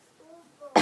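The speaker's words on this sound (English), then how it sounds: "I'm still trying to get over this cough" A single loud, close cough bursts out at the very end, following a stretch of near-silence with faint tonal hum.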